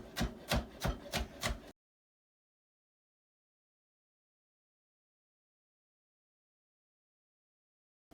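A knife chops celery into square cuts on a board: about five quick, evenly spaced, crisp strikes close up, followed by silence.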